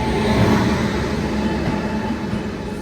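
A goods train rumbles past near Secunderabad Junction, a loud, steady roar of wagons rolling by close to a moving passenger train.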